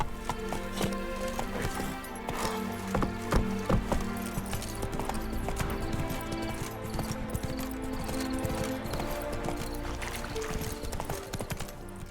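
A horse gallops in The Witcher 3 video game, its rapid, continuous hoof beats clip-clopping over layered in-game music and ambience.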